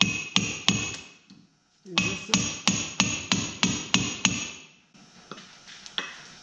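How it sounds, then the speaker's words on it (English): Sharp metallic hammer blows on a chisel while fitting a sway bar to a VW Beetle, a rapid run of evenly spaced close strikes, a brief pause, then another steady series and a few trailing taps. "So now with the chisel,"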